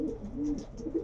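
A male pigeon coos softly in a loft, with a few low, rounded coos close by and no other sound.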